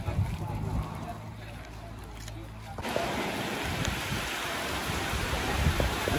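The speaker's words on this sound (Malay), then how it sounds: "Okey, petang ni hujan." Afternoon rain at a campsite, a dense broadband hiss of falling drops that grows louder and fuller about halfway through and then holds steady, with no talk.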